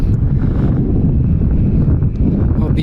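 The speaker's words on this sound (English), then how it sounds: "Getting a bit windy now." Strong wind buffets the microphone on the Isle of Skye near Portree, a constant low rumble that stays loud and close throughout.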